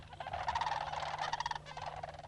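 A chorus of rattling, trilling sandhill crane calls rises and falls continuously, many birds overlapping at a moderate distance over a low steady hum, in grain fields near Portland, Oregon.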